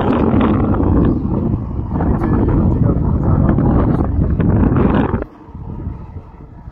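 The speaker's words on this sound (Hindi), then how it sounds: "ठंडी ठंडी हवा चल रही है, बहुत ही क्लासिकल नज़ारा है।" Cool wind blows across a microphone on an upper floor of a building under construction, loud continuous buffeting gusts that suddenly drop to a softer rustle near the end.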